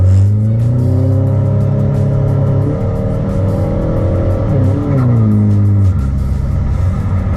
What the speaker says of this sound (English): You can totally hear that turbo spooling up.